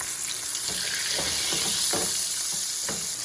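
Red snapper sizzles in butter in a pan, with a loud, steady high hiss and occasional softer spatters and shifting sounds underneath.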